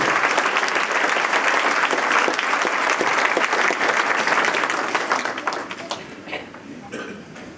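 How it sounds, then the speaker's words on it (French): A hall audience applauds warmly during a mayor's 2020 New Year's address, dense sustained clapping from many hands for several seconds that thins out and fades toward the end. "j'aimerais qu'on les applaudisse ce soir parce que vous avez fait ce soir une belle action."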